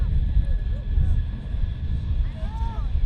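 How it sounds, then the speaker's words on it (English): Propeller airplane coming in to land at the Sun 'n Fun airshow, a steady low engine drone with faint rising tonal whine, heard at a distance under voices and outdoor crowd noise. "Most pilots try to grease the landing."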